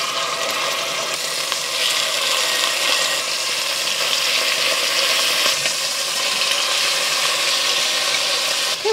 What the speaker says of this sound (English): you see the ginger is sizzling now